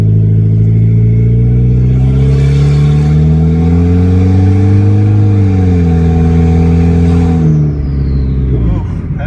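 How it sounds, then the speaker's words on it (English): Turbocharged Honda Civic engine revving hard and close, the pitch climbing and falling through a long pull as the turbo spools, then dropping off at the end with a hiss of release. "I want to hear that blow-off valve and I want to hear that turbo spool"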